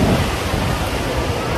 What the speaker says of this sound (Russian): Море неспокойно.